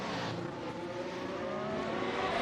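A race car laps the Sepang circuit, its engine note a steady, fairly loud buzzing drone that rises gradually in pitch as it accelerates, with no voices over it.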